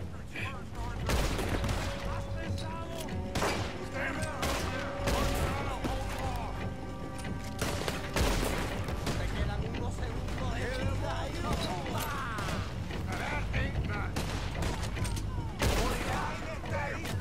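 Gunfire in Red Dead Redemption 2 on an island, with dense, rapid volleys of shots and sharp cracks running almost without a break, loud and close, alongside talking.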